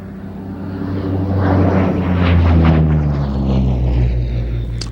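A Spitfire's piston engine drones through an airshow display pass, a low rumbling roar that swells as the fighter nears and then fades gradually away.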